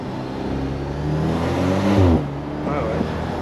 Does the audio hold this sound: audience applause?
no